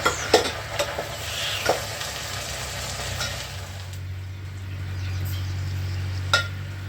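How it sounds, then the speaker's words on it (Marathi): Garlic and fenugreek greens frying in oil in a pan over a wood-fired clay stove, with a steady soft sizzle, occasional stirring clinks and a low hum underneath. "तेल टाकते. त्याच्यामध्ये हा लसूण घेते टाकून आणि ही भाजी ना प्रथम आहे ना परतून घेते मी"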